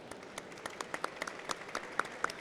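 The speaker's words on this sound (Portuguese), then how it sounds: "Palmas para o Marco." Audience at a medical growth summit applauding a speaker, a thin, fairly faint patter of scattered individual claps from a modest crowd, with several sharper claps standing out.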